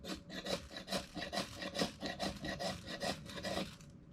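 The spine of a Dark Timber Honey Badger knife scrapes a ferro rod to throw sparks, making a quick, steady series of harsh rasping strokes, close and continuous, with no voices.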